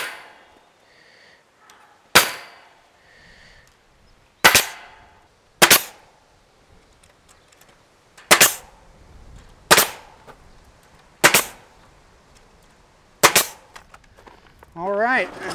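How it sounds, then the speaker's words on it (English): Eight sharp, loud snaps from a staple gun driving stainless steel narrow crown staples into a wooden garden gate, spaced irregularly a second or two apart, with a brief voice murmur near the start. "So I'm attaching this with some narrow crown staples"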